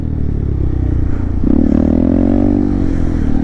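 A Honda Grom motorcycle coasting on its rear wheel in a wheelie, its engine a loud, close, steady drone that swells into a higher, stronger tone midway and holds there.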